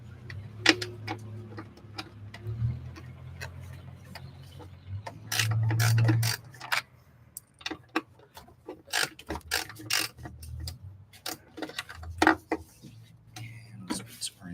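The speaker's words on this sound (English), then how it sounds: "Just another ratchet." A ratchet wrench clicks in quick bursts during work on a Jeep, the sharp ticks coming in irregular runs with a louder stretch of mechanical noise midway and brief voices around it.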